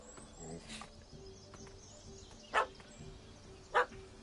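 Dog barking in The Witcher 3: Wild Hunt, two short sharp barks at a cat up a tree, spaced about a second apart over quiet game ambience.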